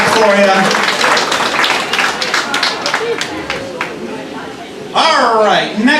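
Audience applause from cruise guests at a party on the Norwegian Cruise Line ship Pearl, a loud, sustained clatter of clapping from a crowd filling the room, with voices and cheers mixed in and a shout near the end.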